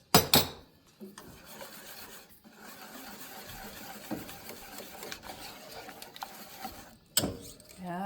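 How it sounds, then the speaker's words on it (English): A whisk stirs melted cheese sauce in a pan, making a continuous soft scraping and rubbing with a few sharper clinks against the sides. "Mix this together till our cheese is nice and melted and smooth. Whisk it a tiny bit."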